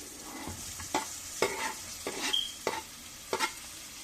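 Dry spices and curry leaves frying in hot oil for a carrot curry, stirred with a utensil: a light steady sizzle broken by several sharp scraping strokes at irregular intervals, close and fairly quiet, with no talking.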